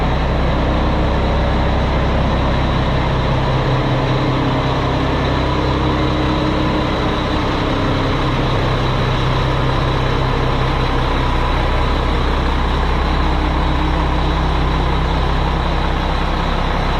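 An old Mack truck drives with a loud, steady low engine rumble and drone that holds constant throughout, with no talking over it.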